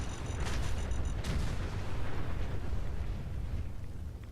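Several mini nuke blasts from a MIRV Fat Man launcher mod in Fallout 4, a loud sustained barrage of booming, rumbling detonations that overlap across the whole stretch without a break.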